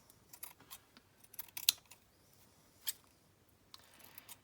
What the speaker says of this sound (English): I'm going to trim off these edges